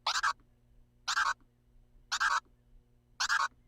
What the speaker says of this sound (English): That's a 3-finger crab.